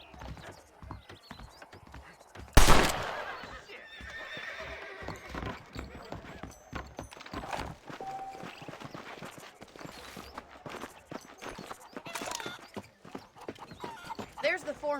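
In the Red Dead Redemption video game, a horse lets out a sharp, loud neigh, followed by steady hooves clip-clopping at a walking pace beneath ongoing character dialogue.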